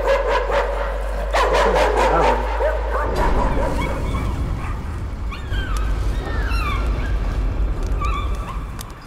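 Dog barking inside the horror video game Layers of Fear, with yips and bow-wow barks in a loud cluster over the first few seconds, followed by noisy, crackling game ambience.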